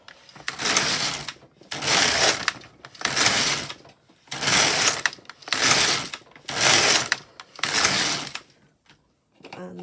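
A knitting machine carriage is pushed back and forth through rows of waste yarn, giving seven loud, rhythmic whooshing rattles of about one second each, evenly spaced with brief pauses between passes.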